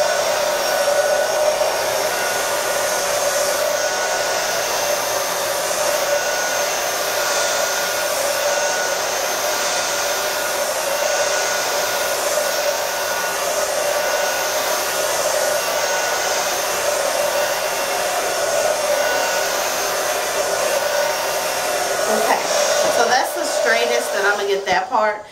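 A hair dryer on its warm setting blows steadily for most of the clip, a close, constant whooshing hum that cuts off near the end.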